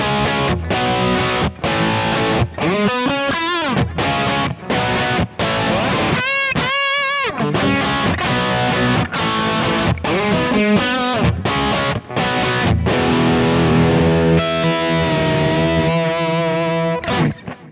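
Overdriven electric guitar through a Klon pedal on the bridge humbucker, playing chunky chords and short bends with punchy mid-range grit, loud and continuous, rhythmic stabs separated by brief gaps.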